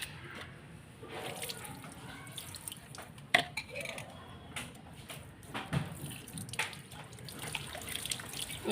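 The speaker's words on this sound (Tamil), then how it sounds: "சோப்பு தண்ணியில் சோப்பு போட்டு கழுவணும்." A kadai pan is scrubbed with soapy water at a kitchen sink, a steady wet splashing and sloshing with scattered clanks and scrapes of metal throughout.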